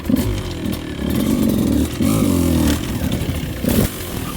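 A Beta 200 race edition dirt bike engine lugs in third gear, giving a loud, close two-stroke drone that surges and dips with the throttle and has some mechanical clatter.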